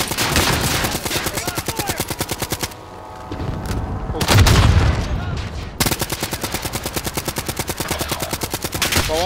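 Rapid automatic gunfire in a shooter video game is aimed at a helicopter: loud, dense bursts of rattling shots with a short lull and a heavy boom midway before the firing resumes.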